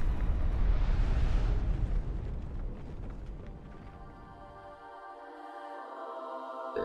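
A bomb explodes in the video game Chained Echoes with a loud, roaring blast that rumbles and fades over several seconds into quieter ringing game tones.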